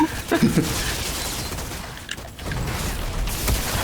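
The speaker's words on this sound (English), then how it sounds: "your giant slow explosion." Explosions and weapon fire in the video game Outriders: rapid bursts and booming blasts crowd the first second, then settle into a steady rolling crackle of combat with faint voices underneath.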